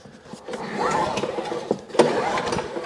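Inverter generator being pull-started, a rough recoil-cord sequence of repeated tugs with sputtering engine bursts, near and moderately loud.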